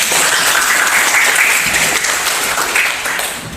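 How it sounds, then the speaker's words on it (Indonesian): Classroom applause for a student: a sustained wash of many hands clapping at steady loudness throughout, close and dense, easing slightly at the end. "Give applause for Putri."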